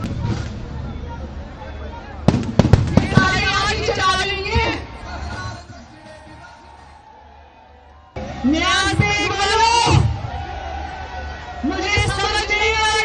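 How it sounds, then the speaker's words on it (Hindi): Sharp cracking bangs of fireworks burst around the two-second mark over a busy crowd and loud overlapping talk, which fades before resuming. "यही आतिशबाजी बंद करें।"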